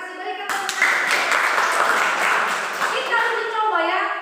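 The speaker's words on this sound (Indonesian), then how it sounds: "Berikan tepuk tangan." An audience applauds at an event, a dense wash of clapping rising suddenly after a brief stretch of talk and holding steady and fairly loud for several seconds, with a voice returning near the end.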